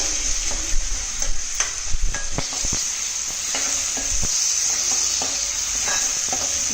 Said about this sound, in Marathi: फणसाची भाजी घालतोय. हे परतून घेते चांगली.